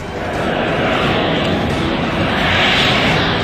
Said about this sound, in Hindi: यहाँ पे जो हवाई पट्टी बनाई गई है उस पर मिराज 2000 और सुखोई 30 प्लेन ने लैंडिंग की है